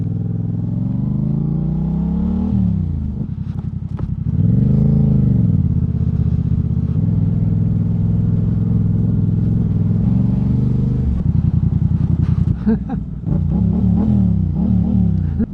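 A motorcycle rides along a road with a loud, steady engine drone close by, the pitch rising and falling as it speeds up and eases off through gear changes. Some brief clatter comes near the end.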